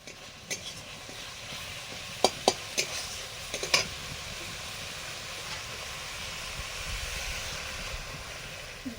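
Water poured into a pan of sizzling spice masala for a fish curry, a steady hissing sizzle with a few sharp clinks of utensils early on, close and moderately loud, no speech.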